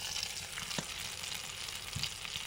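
Spice-marinated boal fish frying in hot oil in a home kitchen, a steady, fairly faint sizzle and hiss with a few soft pops, no talking.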